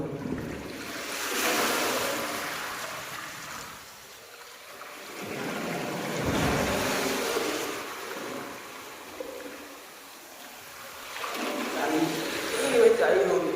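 Sea waves surge and recede in slow swells at an industrial jetty, a rushing roar rising and fading several times, with voices talking faintly underneath.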